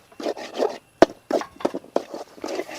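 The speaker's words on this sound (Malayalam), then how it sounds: "ഇനി നമുക്കിത് നന്നായിട്ടൊന്ന് ഇളക്കി മസാലകളുടെ പച്ചമണമൊക്കെ മാറുന്നവരെ ഇളക്കി കൊടുക്കാം." A spoon stirring masala in a pan for Malabar-style stuffed chicken: repeated close scraping and rubbing strokes in an uneven rhythm, with one sharp knock against the pan partway through.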